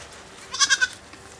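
Young goats, newly separated from their parents for weaning on a drought-hit farm, let out a quick trembling bleat of three pulses, fairly close and clear over quiet background.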